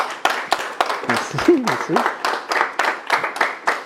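An audience at a municipal council meeting in Saint-Colomban claps steadily for the re-elected mayor, a close, rhythmic round of applause with distinct individual claps, while someone speaks briefly over it.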